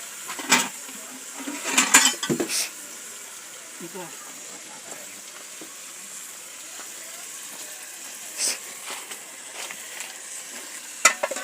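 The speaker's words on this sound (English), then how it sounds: "Oh, I fry one of them in this." Food sizzles steadily in a pan outdoors during holiday cooking at a Jamaican family home. The soft frying hiss runs underneath people talking, with occasional utensil clinks and scrapes.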